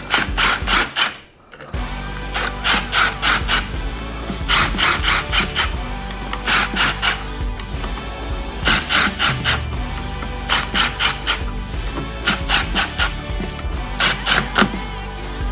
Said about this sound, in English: we're just going to run them in a little bit with the cordless drill